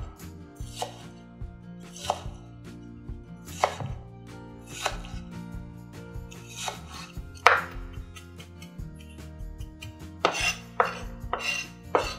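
A knife chops rapidly and steadily on a cutting board, mincing shallots and scallion roots, crisp close taps in an uneven rhythm with a faint hum underneath, no voices.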